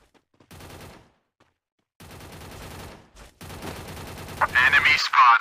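Free Fire gameplay carries bursts of rapid gunfire in separate volleys with short gaps between them, then louder blasts and a bright metallic crackle near the end, like grenade explosions, all fairly close and loud.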